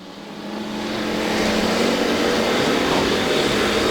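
A factory stock race car engine drones on a dirt oval track at a distance, a sustained buzzing roar that swells louder as the car holds the throttle through a turn.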